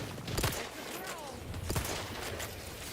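Gunfire in the video game Arc Raiders, a few distant sharp shots and bursts in quick succession over faint background noise.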